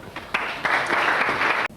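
An audience applauds during a 1990 French game show, a burst of steady clapping that starts abruptly, holds for over a second and cuts off sharply.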